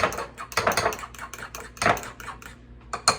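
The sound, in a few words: mixing eggs with vanilla extract in a bowl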